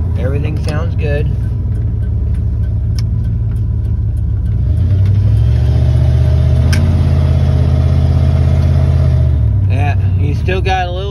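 A 1994 Dodge Ram with the 5.2 engine revs, rising from a steady run into a louder sustained rev with a slight stumble before easing off, heard close with people talking.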